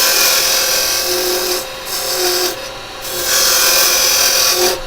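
A woodturning tool scrapes against spinning firewood stock on a lathe while cutting a tenon. The rasping sound is loud and steady and comes in three long passes with short breaks between them, and no one speaks.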